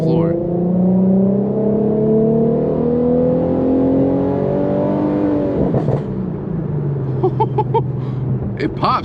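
Tuned Infiniti Q50 engine pulled to full throttle from inside the car, a loud rising rev that climbs steadily, then drops into a lower drone with a few sharp pops near the end.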